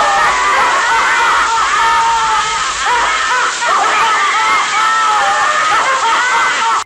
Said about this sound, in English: fills the house with a shrieking laughter that can drive you insane